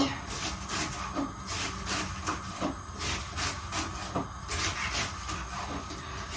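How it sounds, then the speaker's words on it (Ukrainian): Eggs fry in pork fat with a steady, close sizzling hiss broken by frequent crackles and small pops that keep going throughout. "Яєчню он роблю на салі."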